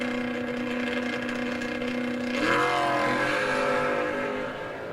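Drag racing at the Great American Stars and Stripes New Year's Spectacular, an orange Chevrolet S10 lined up against a first-gen Camaro: engines held at a steady high drone, then rising in pitch midway as they rev and pull away, loud and close.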